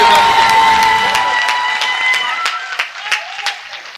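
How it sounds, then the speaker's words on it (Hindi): Audience applause and cheering at a kavi sammelan comedy poetry gathering, a loud burst of clapping with whoops and a whistle-like tone that thins out into scattered claps and shouts by the end. "तो बहुत जोरदार तालियों से सुनील त्रिपाठी निराला जी को"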